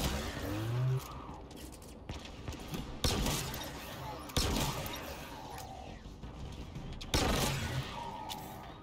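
Shock rifle shots from Halo Infinite, several sharp bursts at irregular intervals with electric crackle over game background noise, fairly loud and close.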